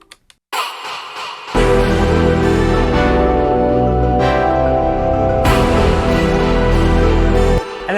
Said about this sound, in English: So you just got this little impact,